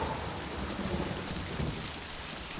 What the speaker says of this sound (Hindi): लिसन, रेन इज फॉलिंग छमा छम छम